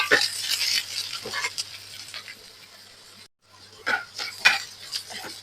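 Onion and garlic fry in oil with mustard seeds and dried red chilli for aval upma. A close sizzle comes with scraping and clinking from stirring, then a brief near-silent pause before the stirring resumes.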